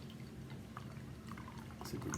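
Aecht Schlenkerla Rauchbier Märzen, a dark smoked beer, is poured into a glass, giving a soft, close liquid gurgle and fizz that builds slightly toward the end.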